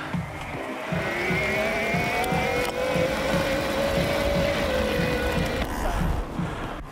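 An e-bike motor in turbo mode whines steadily while pedal cadence climbs from about 40 RPM, a rising electric hum with a rhythmic mechanical pulse underneath, close and fairly loud.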